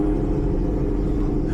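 Supercharged Chevrolet ZL1 with an LT4 V8 pulls hard in first gear, a heavy, dense low rumble that is loud and close throughout the short burst.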